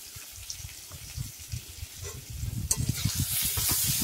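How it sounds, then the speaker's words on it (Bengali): Chunks of elephant foot yam and Malabar spinach fry with onion in hot oil, with soft irregular knocks of stirring over a sizzle that swells into a louder, brighter hiss near the end. "এই যে ওল আর পুঁই ভাড়াতে পেঁয়াজ ফোড়ন দিয়ে একটু ভেজে নিচ্ছি।"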